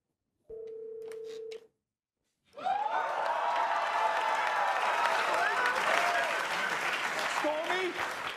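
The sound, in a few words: crowd cheering on SNL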